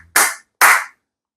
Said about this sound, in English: You can see that the response to my clapping, it is fantastic.